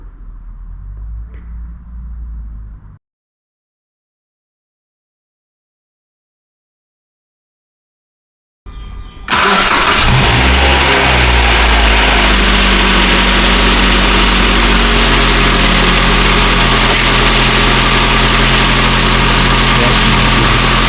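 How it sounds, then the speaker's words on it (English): Mazda 3 BL engine restarted after an oil change: a faint hum cuts to silence, then the starter cranks, the engine catches with a loud surge, and it settles into a steady, close idle. "Restart the vehicle."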